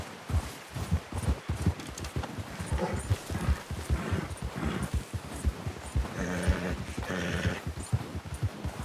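Horse hooves in Red Dead Redemption 2, a steady run of clip-clop footfalls on the ground at a brisk walking rhythm, close and moderately loud, with faint game ambience beneath.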